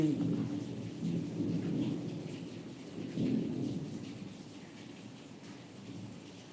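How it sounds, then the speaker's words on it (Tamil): Thunder rumbling with lightning over steady rain, a long low roll swelling near the start and again around the middle, with rain falling continuously underneath. "இடி மின்னலோட மழை வந்துவிட்டது"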